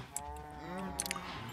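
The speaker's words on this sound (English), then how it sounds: "no one needs this many cows" Short lowing moos from cattle on a crowded automated animal farm in a video game, a single sustained bovine call heard up close with faint clicking around it.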